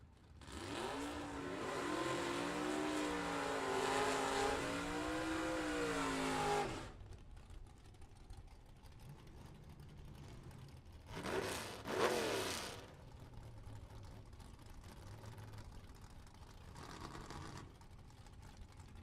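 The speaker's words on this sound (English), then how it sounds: "So Kaler, the 2021 Ford Cobra Mustang, right-hand side." Drag racing cars, a 2021 Ford Cobra Mustang and a Camaro, roar hard off the line with a loud rising engine wail that fades after several seconds, then shorter distant engine surges follow over a low background rumble.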